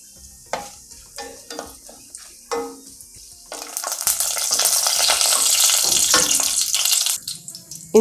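Whole cloves, green cardamom and a single black cardamom dropped into hot oil in a pan, giving a few clinks, then a steady loud sizzle that swells and holds for several seconds.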